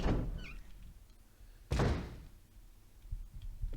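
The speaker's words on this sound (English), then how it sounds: "Let's see if we can open this door to our right" A door opens in the Resident Evil remake video game: a heavy thunk near the start, then a louder sliding clunk and swish, followed by lighter creaks and knocks.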